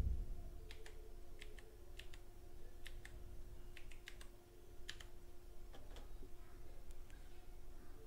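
Keys tapped on a computer keyboard to type a search, a quick run of light clicky keystrokes in short bursts, close but faint over a low steady hum.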